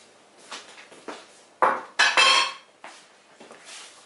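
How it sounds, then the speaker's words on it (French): Utensil scraping and clinking against a pan while béchamel sauce is stirred after the milk and roux are combined, a few short sharp scrapes and knocks with quieter stirring between, close and without talk. "Je remue bien. Et je remets sur le feu."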